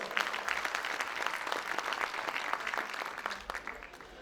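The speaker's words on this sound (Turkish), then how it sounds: "Bir alkış daha gelsin." Steady audience applause at a plaque ceremony during a 26th-anniversary friendship night, a dense wash of clapping sustained throughout without pause.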